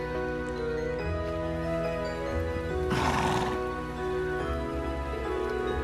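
A horse in the video game Trails of Cold Steel 2 gives a single loud whinny midway, with hooves clip-clopping over a sustained musical score.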